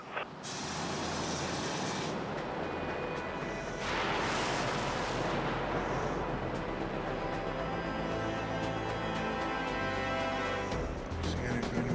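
Heavy warship cannons firing in the Dreadnought video game, a deep roaring blast followed by a long rumbling wash of sound with a second surge partway through, steady and loud throughout.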